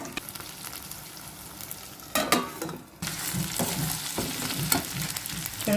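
Spleen (tilli) frying with ginger and garlic in a pan, giving a steady close sizzle broken by louder bursts of stirring and scraping; the sizzle briefly drops near the middle, then returns at full strength, with no one talking.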